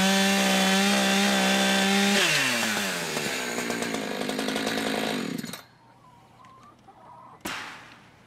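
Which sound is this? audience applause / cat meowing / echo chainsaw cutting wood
echo chainsaw cutting wood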